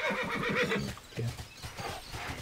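A horse mount in the online role-playing game TERA neighs and whinnies loudly up close, with clip-clop hoof sounds and no speech.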